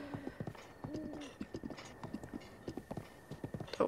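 A horse gallops in Zelda: Breath of the Wild, its hooves making quick, rhythmic clip-clop beats over soft game ambience, mid-distance and fairly quiet, with a faint whinny early on.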